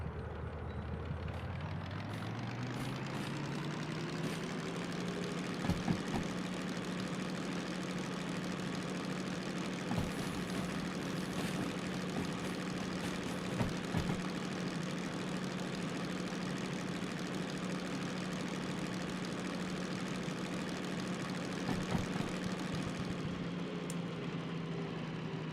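DM3 diesel locomotive in the train simulator game Derail Valley, engine braking with a steady heavy droning rumble throughout, with occasional faint clanks and knocks over the constant engine tone.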